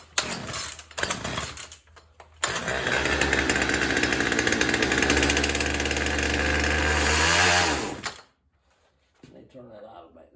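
A small chainsaw with a Zama carburetor that has sat unused roars to life after being choked, following a few short pull-start bursts, then runs loud and steady for several seconds before cutting off abruptly.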